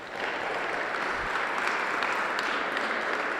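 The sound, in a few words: audience applause for a string quartet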